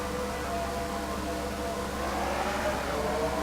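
Race cars in a racing video game accelerate together at a restart at Chicagoland, making a continuous droning engine roar with a rising whine.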